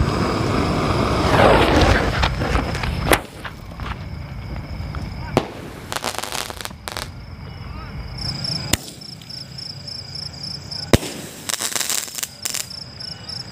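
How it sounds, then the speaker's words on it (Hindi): Top Ten Sky Flash fireworks at Diwali, a few sharp loud launch cracks and bursts spaced across the scene, with crackling, insect-like chirps and hissing between them outdoors. "जलाते हैं टॉप टेन स्काई फ्लैश को देखते हैं किस तरह के डिस्प्ले रहेगा किस तरह शॉट निकलता है इसमें से"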